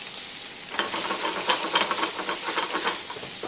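Venison frying in a hot pan, a continuous loud sizzle and hiss with crackling spits that grow busier partway through, close up and without talk.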